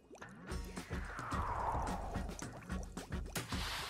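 Cartoon liquid draining and dripping out of a little car's system after engine oil is flushed, a run of wet squishy drips over a gurgling flow, fairly close and steady.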